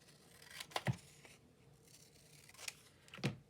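Scissors snip through a paper bag in a few short, quiet cuts with rustling paper between them, close up and with no talking.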